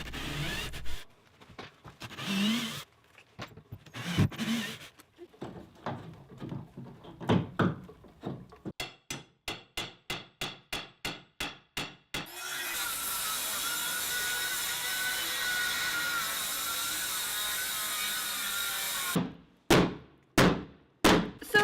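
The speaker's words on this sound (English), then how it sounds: "I need to remove these rusty screws on the hinges and then take the door off." Rusty hinge screws worked loose and a door taken off during workshop deck building, with scraping, thunks and a fast run of rhythmic rasping strokes, then a long steady grinding whir and a few final sharp knocks, all close and without talk.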